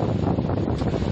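Strong wind and rain from Typhoon Opong lash a road in Romblon, a loud, continuous buffeting roar that batters the microphone with no voices.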